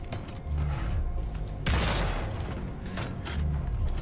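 Gunfire aimed at a hovering warship in Homefront: The Revolution, a rapid rattle of shots over a heavy engine drone, with a sharp loud burst partway through.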